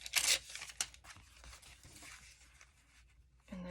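A paper napkin is ripped by hand in one close, sharp tear at the start, followed by quieter rustling and handling of the paper.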